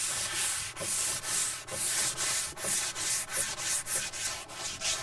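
Steady back-and-forth block sanding strokes rasp across primer on a car panel in an even rhythm, about two per second, close and unbroken, with no voices.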